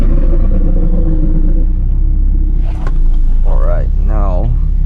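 A loud Infiniti Q50 with a VR30 engine and valved exhaust, exhaust open, drives with a steady deep rumble that dips briefly and then rises again, while a voice talks over it near the end.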